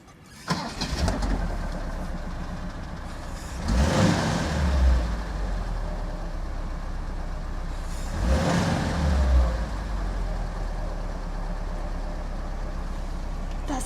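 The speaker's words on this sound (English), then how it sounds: "Have a listen as I start it up for you." A 1970s Vauxhall Victor FE Estate classic car engine cranks and catches, then settles into a steady idle with two louder revving surges, close up and alone with faint birdsong behind.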